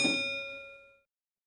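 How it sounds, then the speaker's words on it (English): Single bright chime from the passenger bell at the wheelchair user space on a Stagecoach bus, ringing with a clear sustained tone that decays over about a second into silence. "checking the bell on the wheelchair user space"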